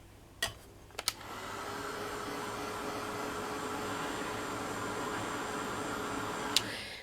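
Hair dryer blowing on wet textured paint: a few clicks and knocks, then the motor starts into a steady, loud whir with a faint tonal whine, holding evenly before a click near the end.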